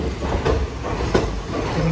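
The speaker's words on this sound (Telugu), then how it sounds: "ఇంకో ఈ ట్రైన్ చూడండి, నా తెలిసి ఇది ప్యాసింజర్ ట్రైన్ అనుకుంటా" A passenger train at a railway station in Tamil Nadu, heard as a steady, moderately loud rumble of rolling carriages with faint wheel clatter and no speech.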